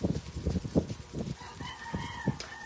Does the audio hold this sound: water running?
no